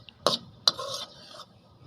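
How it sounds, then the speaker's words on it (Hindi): A spoon scrapes and clinks against a pan while stirring a besan mixture over low heat, two sharp strokes followed by a softer rubbing scrape, close and otherwise quiet. "चम्मच इसका बराबर हिलाते रहें"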